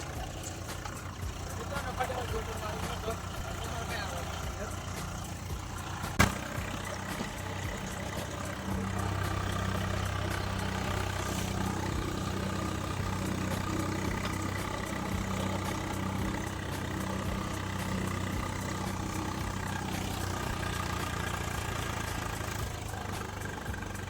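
A tractor with a missing tyre nut idles after rotavating a hard field, a steady low engine rumble with a single sharp knock, while people talk over it.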